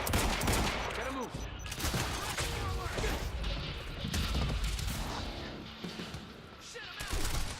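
Heavy gunfire in the video game Quantum Break, with dense, overlapping bursts and crashes sustained loudly throughout and voices mixed in among the shots.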